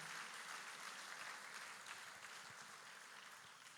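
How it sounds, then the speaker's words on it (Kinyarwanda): Steady applause from a church congregation clapping in praise of God, a dense wash of hand claps filling the room evenly and slowly easing off toward the end. "mukomere Imana amashyi"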